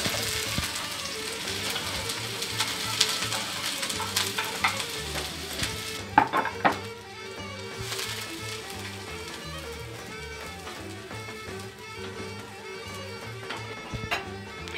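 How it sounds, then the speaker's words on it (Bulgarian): Chopped onion sizzles and fries in a hot pan while being stirred, a steady crackling hiss that runs close and loud throughout with occasional sharper pops, no talking over it. "Да, лука е готов. Слагаме го в тигана."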